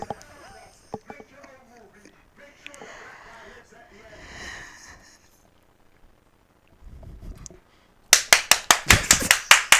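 An audience breaks into loud, sharp applause near the end, many rapid claps following a stretch of quieter talk and murmuring.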